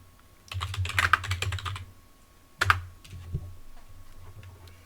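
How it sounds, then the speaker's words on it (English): Typing on a computer keyboard while entering a command in Zorin OS, two close bursts of rapid key clicks, the first longer, the second short, followed by a few lighter taps, with no talking. "Let's just type in neofetch now"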